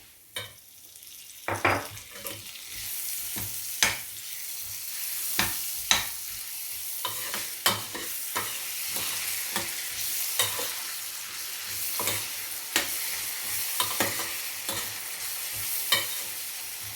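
Butter sizzling in a pan with toasted erişte noodles for bulgur pilaf: a steady close frying hiss broken by regular scraping clicks of stirring, with no voices.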